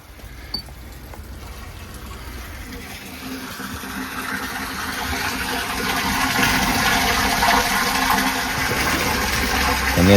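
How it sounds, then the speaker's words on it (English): Water running into a septic tank at a lift station after household water is turned on: a rising gush and trickle that grows steadily louder and fuller over several seconds, heard alone with no talking. "Let's turn some water on."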